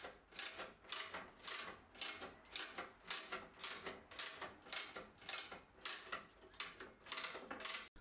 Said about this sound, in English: using the ratchet handle, wind the Landy up